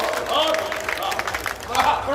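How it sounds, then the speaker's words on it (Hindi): An audience at an outdoor Hindi poetry gathering applauds a visiting poet, with dense, continuous clapping and crowd noise throughout and voices calling out over it. "दोनों हाथ पर उठाकर जोरदार तालियां बजा करके अभिनंदन"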